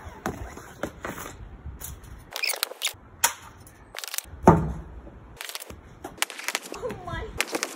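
Ice hockey shots with a Hyperlite stick crack sharply several times at irregular intervals, loud close slaps with brief echoes, while people talk between them.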